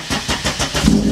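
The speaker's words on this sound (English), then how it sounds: "I'm gonna start the car, pump the brakes." A worn-out, failing car's starter cranks in a quick run of rhythmic pulses before the engine catches near the end and keeps running, close and fairly loud.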